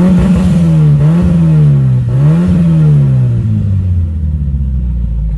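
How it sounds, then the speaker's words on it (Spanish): A Mitsubishi Evo engine with over 500 hp revs loudly and continuously, its deep rumble rising and falling in pitch over several seconds before settling lower. "Vamos a acelerarlo, si nos permite"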